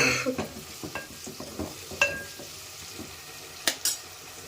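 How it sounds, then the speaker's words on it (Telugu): Green chilies and onions fry lightly in a pan for an Andhra-style prawn gongura curry, giving a low steady sizzle broken by scattered stirring scrapes and a few sharp clinks of utensil on the pan. "కాస్త లైట్గా వేగనిద్దాం పచ్చిమిర్చి ఉల్లిపాయలు."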